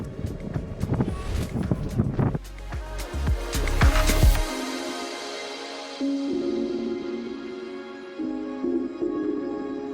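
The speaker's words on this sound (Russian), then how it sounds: "ветер, попадая на эти конструкции, создает такой гул" Wind hums steadily in a low drone across the metal structures of a sailboat sculpture monument in Argentina, preceded by loud buffeting gusts against the microphone; no one speaks.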